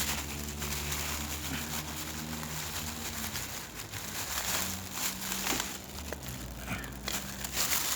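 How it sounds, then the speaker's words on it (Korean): A plastic bag crinkles and rustles steadily as a Leatherman Surge multitool and several single hand tools are packed into it for weighing, a continuous close crackling texture with no talk. "이렇게 비닐봉지에 넣어서 한꺼번에 무게를 달아보도록 하겠습니다"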